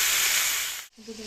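Vegetables, including potatoes, sizzle in a hot pan with a loud, steady hiss that cuts out abruptly near the end, followed by a low hum.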